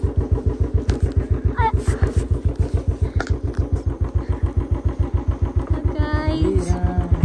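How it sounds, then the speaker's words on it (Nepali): A motorcycle engine starts and settles into a close, loud, rapid even thumping idle that carries steadily throughout, with a few faint higher chirps above it near the end. "मैले नछोएसम्म यो बाइक फेरि चल्दैन कि अलिकति जादु छ मेरो हातमा"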